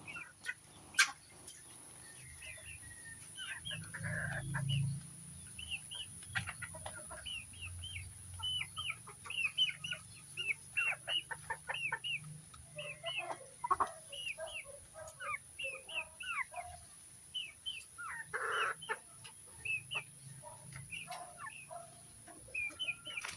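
Backyard chickens cluck and murmur steadily during feeding on a rainy day, a dense run of short near calls with a low rumble underneath and no talking.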